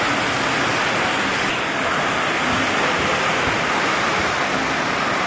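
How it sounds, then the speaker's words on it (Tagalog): A heavy downpour with wind makes a steady, loud, dense rushing roar that holds unbroken throughout, with no one talking. "buhos ng ulan at may kasama pong hangin mga kalingap."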